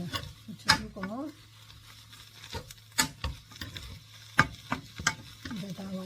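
Seasoned dried radish greens tossed by hand with sesame salt and salt in a pan after the heat is off, giving soft rustling and light stirring sounds with a few sharper clicks, close and moderately quiet.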